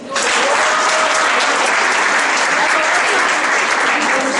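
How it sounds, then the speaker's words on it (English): A hall audience at a cancer outreach event at a medical school in Buea, Cameroon, breaks into loud, sustained applause, a dense unbroken wash of clapping that holds steady throughout. "Can we give them a clap, please?"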